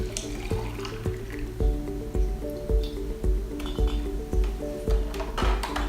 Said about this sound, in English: we're going to fill these 1 quart jars up with this delicious liquid sunshine